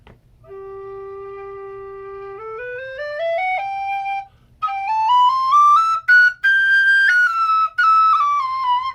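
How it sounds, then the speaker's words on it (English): A tin whistle plays a clear melody, notes rising in steps with a few quick ornaments, solo and close. "It is almost a perfect whistle."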